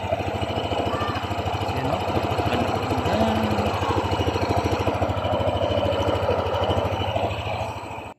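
A Yamaha NMAX 155 scooter engine with a worn crank pin and side bearings idles close by. It gives off a steady rapid chopping, helicopter-like throb with a mechanical rattle, holding constant before cutting off at the end.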